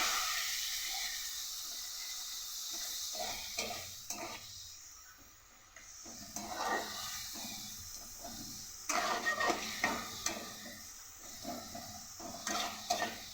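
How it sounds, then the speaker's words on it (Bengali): Ginger-garlic spice paste frying in oil as it is stirred, a soft steady hiss broken by scattered scrapes and clinks of a utensil in the pan, fairly quiet and close. "সাথে মশলাটাকে ভালো করে কষিয়ে নেব।"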